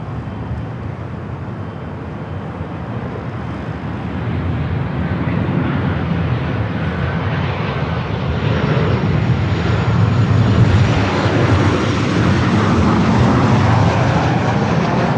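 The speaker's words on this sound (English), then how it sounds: "the flight to Santiago, 787-8 Dreamliner with Latam" A LATAM Boeing 787-8 Dreamliner takes off from runway 24 right at Los Angeles International Airport. Its jet engines give a broad, steady roar that swells gradually louder, with no talking.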